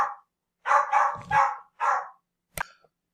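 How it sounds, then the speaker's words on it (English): A dog barks a few times in the background, loud sharp bursts in quick succession, then a single short distant yip near the end. "Apologies if you heard the dog barking in the background."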